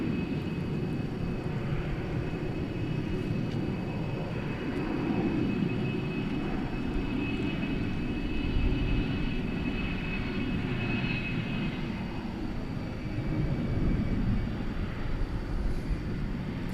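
Wide-body jet aircraft at DFW airport, a steady, loud low engine roar that swells and holds throughout, with a faint high whine riding above it.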